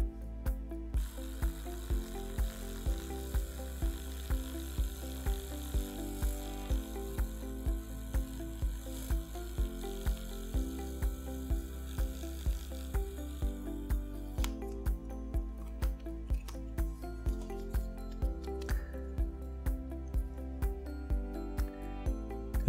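A Broxodent electric toothbrush runs with a rapid, regular mechanical clicking and buzzing, a steady repeating ratchet-like rhythm held for over twenty seconds, close and fairly loud with no talking.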